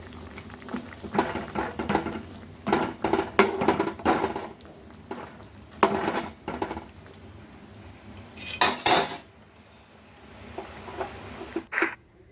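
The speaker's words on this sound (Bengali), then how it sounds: "এখানে কটা আলু তুলে নিয়েছি ঝোলের থেকে, এগুলো গলিয়ে আমি ঝোলের মধ্যে দিয়ে দেবো" Boiled potatoes lifted from curry gravy being mashed with a utensil against a pot, irregular close knocks and scrapes in bursts with pauses between.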